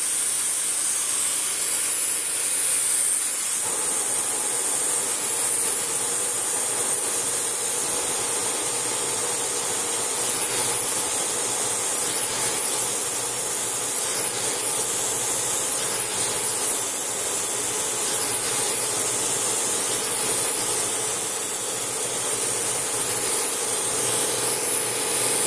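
A bench grinder stone wheel being dressed with a diamond dresser, a steady loud hissing grind that runs continuously with a slight change in tone early on, with no voices.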